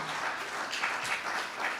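Audience applause for a live band at The Bedford, a dense, steady wash of clapping that continues throughout at moderate distance.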